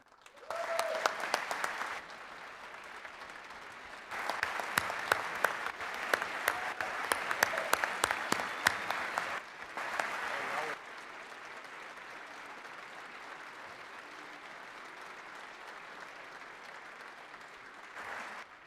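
Georgia state legislators applaud during a State of the State address in the chamber, several bursts of dense clapping from a large room, rising and falling across the span, with a speaker's voice faintly heard between bursts.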